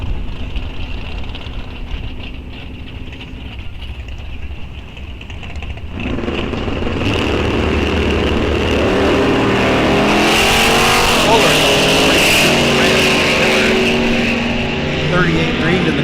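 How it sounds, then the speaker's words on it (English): A Corvette drag races at a bracket event at Rock Falls Raceway, its engine roar building from a steady idle into a loud, sustained full-throttle blast down the strip, with an announcer's voice over the track noise. "Eric Miller, 1022 in the Corvette in the right lane."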